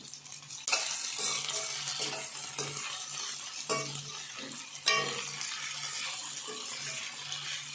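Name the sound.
boiled prawns stirred and frying in a pan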